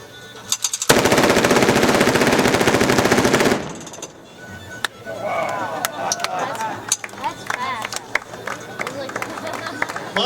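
A machine gun fires a long, rapid, loud continuous burst for about three seconds, followed by scattered sharp cracks and bangs under background voices and shouting.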